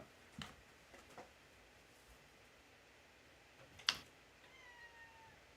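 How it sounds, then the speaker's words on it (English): Cats meow and yowl just outside a door in a quiet room: a few short, faint cries, a sharper call near the end and a drawn-out wail at the finish. "Are the cats fighting outside my door right now?"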